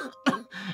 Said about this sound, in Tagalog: Palala na ng palala yung ubo mo eh.